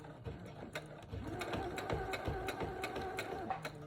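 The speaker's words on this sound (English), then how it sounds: "sometimes you may want to backstitch a little bit to just give it some added security" A sewing machine stitching and backstitching a braided children's headband, its rapid mechanical needle clatter running close and steady with short pauses and ratcheting clicks.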